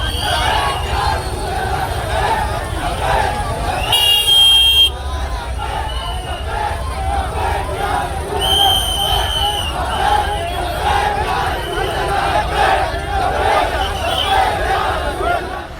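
A large crowd of young and old people outside a police station in Vadodara shouts religious slogans in loud, continuous, overlapping waves. A brief electronic tone cuts through early on.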